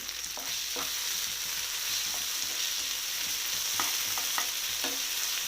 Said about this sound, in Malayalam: നന്നായി ഒന്ന് മിക്സ് ആക്കി കൊടുക്കാം